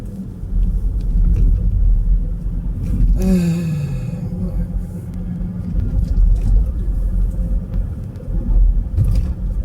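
A car drives along a road, a steady low engine and road rumble running throughout, with a brief tonal swoop partway through.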